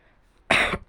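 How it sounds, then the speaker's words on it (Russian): A single short, close cough, sharp and loud, lasting under half a second against a quiet background. "Извиняюсь за кашель"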